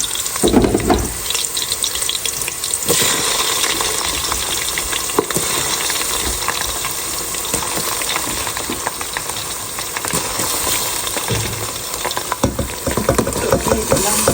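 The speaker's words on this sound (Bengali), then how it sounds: "এখানে পেঁয়াজ ভাজা নিতেছি কিন্তু পেঁয়াজটা বেশি ভাজবো না দিয়ে দেবো চালগুলো" Onions frying in a pot with rice being stirred in, a steady close sizzle and scraping that runs unbroken for the whole stretch, with occasional louder clinks and stirring bursts.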